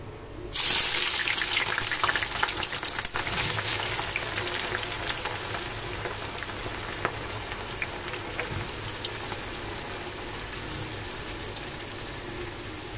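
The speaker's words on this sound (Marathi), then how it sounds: "आता आपलं तेल गरम झालंय, आपण ह्याच्यात कांदा टाकूया." Chopped onions drop into hot oil for chicken dum biryani and burst into a loud, dense sizzle that settles into a steady crackling fry, close and continuous with no talking.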